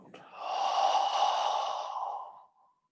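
A long, slow, airy exhalation during a qigong exercise, close and steady for about two seconds before fading to silence.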